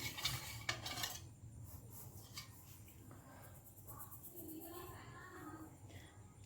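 A spoon stirs semolina and sugar into hot milk in a pot for a sooji cake, making faint clinks and soft scraping, quiet and close, with a few sharper taps early on.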